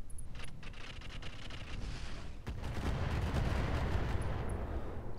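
Heavy weapon fire from mechs and vehicles in the Roguetech game, aimed at a badly damaged turret: dense, continuous booming and rattling blasts that swell louder in the second half, with no voices.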